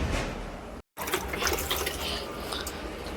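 Water poured from a container into potted plants, including a mint plant, as a continuous splashing, trickling wash that breaks off briefly near the start, then resumes steadily and close.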